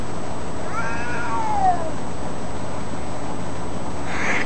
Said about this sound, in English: He only hissed once.